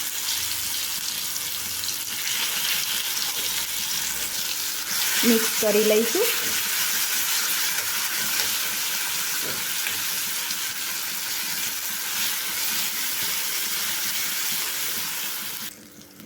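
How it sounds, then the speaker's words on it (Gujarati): Crushed garlic and chilies hit hot ghee already tempered with cumin, giving a loud, steady, close-up sizzle that hisses on without a break until it cuts off at the end, with a brief spoken voice partway through. "હવે આપણે એ વાટેલા લસણ મરચાંને એડ કરીશું વઘારમાં"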